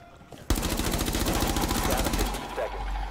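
Rapid automatic gunfire in the tactical shooter Rainbow Six Siege, a loud close burst of evenly spaced shots lasting about two seconds, then rumbling game noise.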